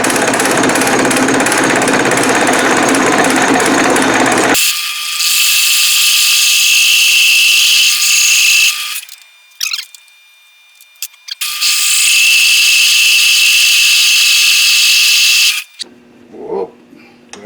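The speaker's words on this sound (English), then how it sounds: "The parting tool on the lantern tool post looks to me like it's perfectly good for this job." Lathe parting tool on a lantern tool post cutting into metal while making a gear cutter arbor, a loud harsh grinding chatter in two long bursts separated by quiet pauses with small clicks.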